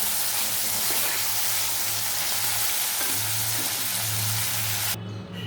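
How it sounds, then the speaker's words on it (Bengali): Hilsa fish head frying in hot oil, a dense, continuous sizzle heard up close, with a faint stirring rumble underneath before the sizzle drops off sharply near the end. "ইলিশ মাছের মাথা আর তেলটা ভেজে নিচ্ছি।"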